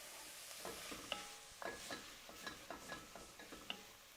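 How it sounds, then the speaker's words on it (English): Onions sweat in a pan for tortilla soup while a utensil stirs them, giving quiet, close scraping and tapping in an irregular rhythm over a soft sizzle, with no talking. "So we're just stir around those onions."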